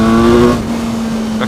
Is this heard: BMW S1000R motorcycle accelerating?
yes